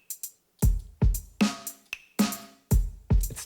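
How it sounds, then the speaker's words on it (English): Drum kit with bright hi-hats under a neutral, normal-sized room reverb effect, a repeating pattern of punchy hits with crisp sizzling cymbal tops and short decays, played alone without talk. "But as you can hear, listen to the hi-hats."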